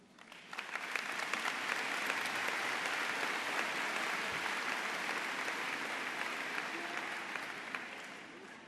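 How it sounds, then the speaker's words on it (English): A large graduation audience applauds at a high school commencement ceremony, a dense and sustained wash of clapping that swells in and holds steady for several seconds before easing slightly. "we applaud you."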